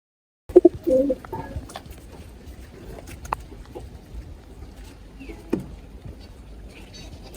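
Newly bought pigeons give soft, low coos against a quiet indoor background, with a few louder flutters and knocks near the start.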